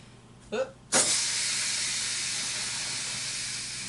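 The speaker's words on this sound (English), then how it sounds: "Now I'm gonna release the pressure now that it's done." A pressure cooker, with a towel thrown over it, vents steam after cooking eggs: a couple of short clicks, then a loud sudden hiss that holds steady and slowly eases off, with no talk over it.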